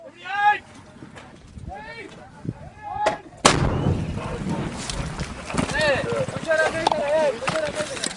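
Rifle gunfire at a shooting range, a couple of sharp, loud shots with a large blast near the middle, followed by lingering noisy echo, while people talk and shout throughout.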